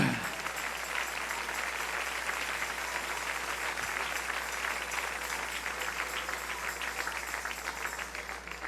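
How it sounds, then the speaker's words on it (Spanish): Congregation clapping during a Spanish-language church sermon, a continuous broad wash of applause that stays steady and fairly distant, easing slightly at the end. "Dale un aplauso al Señor."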